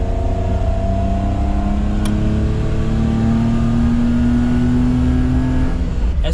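Daihatsu Midget 2 three-wheeled microtruck engine and exhaust at a crawl of about 5 mph, a steady close-up drone with a slowly rising pitch and no talk.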